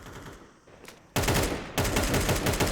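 Rapid gunfire in Counter-Strike on the Ancient map during a competitive match, a dense continuous burst of shots close up that starts abruptly and keeps going.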